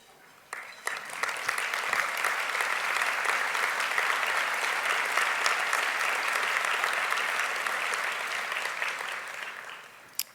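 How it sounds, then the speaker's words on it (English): A luncheon audience applauds past board members, and the dense, steady clapping swells quickly, holds for about nine seconds, then tapers off. "Could all of the past board members please stand so we can applaud your contributions to the"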